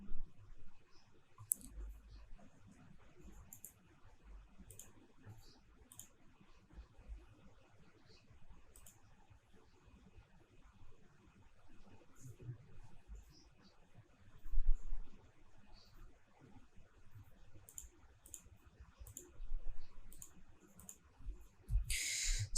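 Computer mouse clicks come as sparse, light, close ticks scattered over a quiet, faintly hissing room background, with a small flurry of clicks near the end and no talking.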